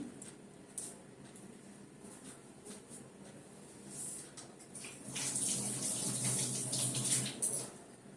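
Tap water runs while chickpeas are washed in a home kitchen to make fuchka. A low, steady trickle gives way to a louder, fuller gush over the second half, with soft splashing and no talk.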